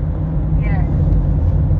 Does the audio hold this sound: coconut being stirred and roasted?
no